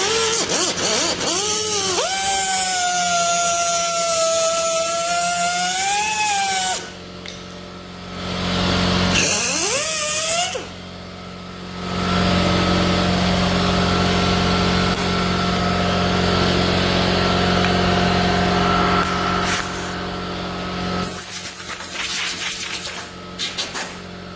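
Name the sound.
air compressor running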